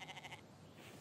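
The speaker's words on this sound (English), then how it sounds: "What am I gonna do with that goat?" Goat in the survival game The Infected giving a faint, short wavering bleat at the start, quiet and distant, followed by soft ambient noise.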